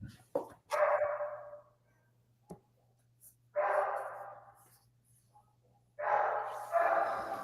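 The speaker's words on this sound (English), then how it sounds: "some dog is barking" A dog barking in three separate bursts of a few rapid barks each, with quiet gaps between them, moderately loud over a low background hum.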